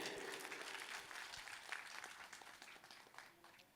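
Audience applause at a regional singing competition in Delhi, a dense round of clapping from a crowd that gradually fades, with a faint voice briefly audible underneath.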